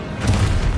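A spell's explosive blast goes off in the Hogwarts Legacy video game, a loud, rumbling boom with a sustained low roar that holds for under a second.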